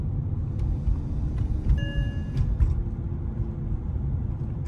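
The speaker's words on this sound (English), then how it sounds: "This is what a CL550 is supposed to sound like, minus the seatbelt warning." A Mercedes-Benz CL550, its wheel bearing freshly repaired, cruises with a low, steady road rumble inside the cabin, smooth and quiet, while a brief electronic seatbelt warning chime tones in partway through.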